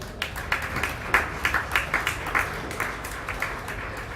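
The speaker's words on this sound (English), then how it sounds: "give them both a big round of applause" Applause from the crowd at a county fair sheep show for the exhibitors: steady clapping with a few sharper claps standing out, fairly close, with no voices over it.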